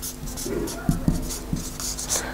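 A marker writes 'get used to' on a board in short scratchy strokes with a few firm taps, fairly close, over a quiet room with faint background sound.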